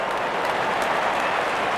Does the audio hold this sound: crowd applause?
yes